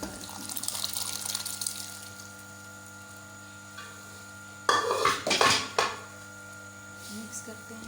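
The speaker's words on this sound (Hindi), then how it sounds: "दाल को पानी के साथ ही हम ऐड करेंगे।" Lentils (dal) poured with their water into a cooking pot for daal gosht, a short splashing burst with metallic pot clatter and stirring against a quiet kitchen hum.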